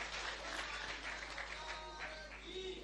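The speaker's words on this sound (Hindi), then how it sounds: "इस पावर को नमन करना चाहिए, ताली बजा करके धन्यवाद करना चाहिए" Sustained clapping from a large crowd at a religious darbar gathering in Pandokhar, Madhya Pradesh, an even wash of applause heard from a distance under a steady hum, with faint voices mixed in.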